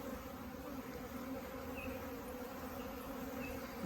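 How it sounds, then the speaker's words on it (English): A steady, close buzzing of bees swarming around a top bar hive during package installation, continuous and fairly quiet, with no voices. "the bees are here and they're flying around"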